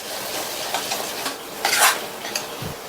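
A spoon stirs gravy masala with turmeric and red chilli powder in a cooking pan, quiet scraping strokes against the metal with a faint sizzle underneath and a few sharper clinks near the end.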